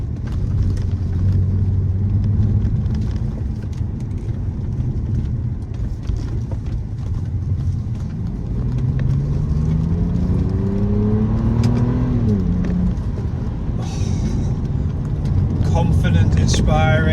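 A BMW E63 on uprated Bilstein suspension drives over bumpy roads, a steady close engine drone and road rumble with revs rising and falling through the gears. No talk is heard over it.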